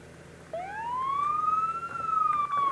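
A Czech police car siren in the BeamNG.drive video game, a single rising wail that swells from about half a second and holds loud and clear, with no talking over it.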